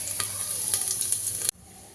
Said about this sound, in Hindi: तेल बहुत तेज़ गर्म हो गया है और जीरा भी चटक गया है